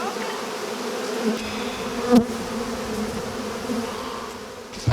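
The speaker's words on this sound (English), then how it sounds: "there were bees all over the mic, so if y'all hear something, that's what it is" Honey bees buzz steadily right up against the microphone during a hive inspection, a dense continuous drone with a couple of brief louder bumps.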